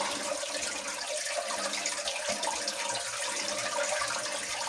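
Water flowing through a channel on a mountainside, a steady broadband rush that stays at an even level throughout, close and continuous with no talking.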